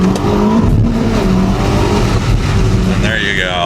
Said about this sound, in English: So we're just gonna go do a little launch.